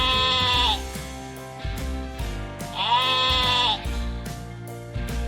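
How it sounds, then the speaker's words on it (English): A sheep gives two loud, nearby bleats with a steady, nasal tone and a clear gap between them, set over a light background bed and no speech. "That's a sheep that's making this sound."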